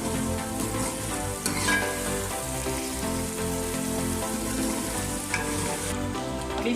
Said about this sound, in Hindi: पेस्ट ऐड करेंगे, 2 मिनट तक भून लेंगे।